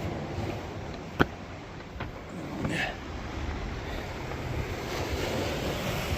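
Ocean surf washing onto a beach beside cliffs, a steady broadband roar mixed with wind buffeting the microphone, with a sharp click early on.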